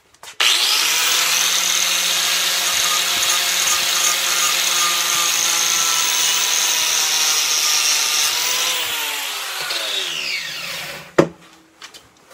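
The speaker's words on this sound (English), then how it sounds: "That took a fair bit of grinding with this pretty abrasive wire brush." An abrasive wire brush on a power tool grinds against TFormex plastic sheet in a steady, loud, whirring drone for about ten seconds, then the motor winds down to a stop with a sharp knock at the end.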